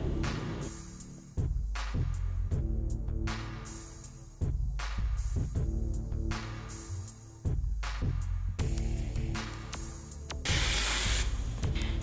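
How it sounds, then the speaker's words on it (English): Control Force hairspray is sprayed onto hair in a run of short, close, hissing bursts, each separated by a brief pause, ending in one longer, louder spray. "I'm going to run my fingers through my hair and finish my look with my Control Force hairspray."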